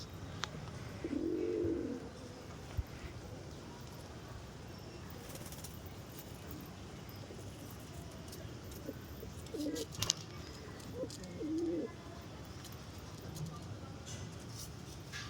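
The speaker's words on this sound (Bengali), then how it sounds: "গাছে দেখো ঘুঘু এসে বসে আছে, গম খাওয়ার জন্য এসে বসে থাকে" A dove perched in a tree, there to feed on wheat, gives soft low coos in a couple of short bouts, faint and somewhat distant over steady outdoor background noise.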